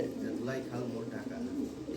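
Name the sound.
Lahori pigeons cooing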